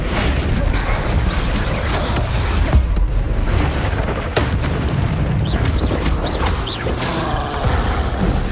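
Bombarda spell explosions in Hogwarts Legacy, loud booming blasts amid dense clanking mechanical game noise and rumble, continuous and close, with shouted spell names in between.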